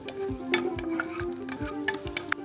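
Garlic sautéing in about two spoons of olive oil in a pan for vegetable lasagne, a soft steady sizzle broken by rhythmic scraping stirs, close and without talk.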